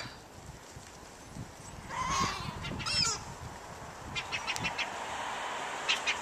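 Seagulls calling in scattered squawks and cries, near and far, while being fed bread outdoors, over a steady background hiss.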